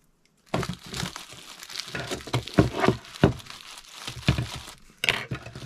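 A plastic bag holding a new saxophone stand is opened by hand, giving close, irregular crinkling and rustling bursts with a few sharper crackles, sounding alone without talk.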